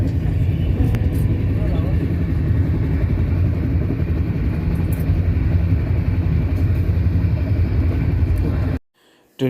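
Train running alongside Chilika Lake in Odisha, a loud steady rumble heard from on board that continues throughout before cutting off abruptly near the end.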